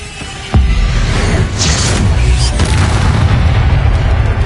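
The Confringo explosive spell cast in Hogwarts Legacy, a sudden loud close boom followed by crackling bursts and a whooshing tail over rumbling combat noise.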